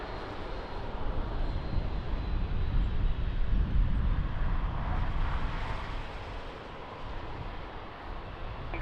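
Airplane taking off from runway 20 at Lisbon Airport, a broad engine roar that swells to a peak midway and then eases off slightly, heard from a distance with no talk.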